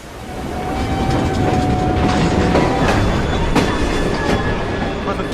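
Train rolling on rails in Assassin's Creed Syndicate, set around Southwark Station in Victorian London: a steady, loud rumble with clattering wheels and faint metallic squeals, running continuously without speech.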